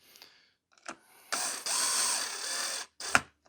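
A bolt is tightened on a terminal of a Yixiang V2 DIY battery kit, with a few soft clicks and then a sustained whirring ratchet-like run that lasts over a second and ends in a sharp click. Everything is close up and no one talks.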